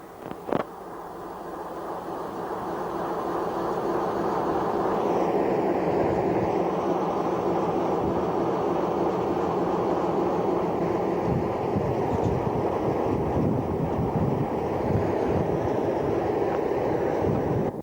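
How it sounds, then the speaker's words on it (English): A steady low rumble of two idling trains waiting for the XPT on the North Coast railway line holds throughout, with a brief sharp clank near the start and continuous mechanical drone. "Over here we have two trains waiting for the XPT. Two just idling"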